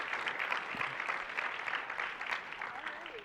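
A pitch competition audience applauds in a continuous wash of clapping, fairly soft and distant, holding steady throughout with no clear voices on top.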